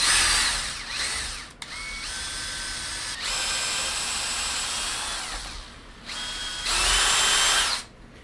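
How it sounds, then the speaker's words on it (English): A power drill fitted with a brad point bit bores slowly into wooden end grain while making a DIY craft knife handle, whining close by in several sustained bursts with short pauses between them. "You want to use a brad pointed bit for this because you're drilling into end grain."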